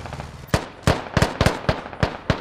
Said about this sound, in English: They're trying to pinpoint where these mortars are coming from